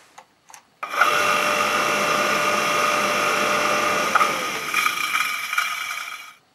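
A repaired water pump, restored using school lathe and milling machines, switches on after brief knocks and runs steadily on its shaft with a loud, even whine and hum, then spins down near the end.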